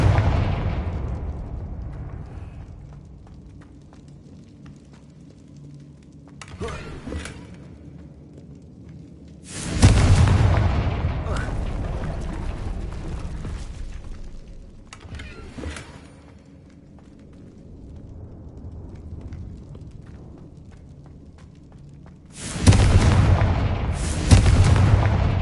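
Confringo fire-spell blasts from Hogwarts Legacy, several heavy booming explosions spaced irregularly, each a sharp loud burst with a rumbling tail, separated by quieter stretches of low ambient rumble.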